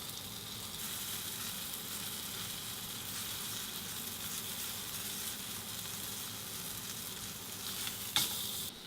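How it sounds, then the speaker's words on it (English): A steak fries in a hot pan, giving a close, steady, even sizzle that holds throughout with a brief louder burst near the end, and no voices over it. "as the steak is cooking, what happens is the blood, which is the flavour, wants to rise up the steak and come out the top"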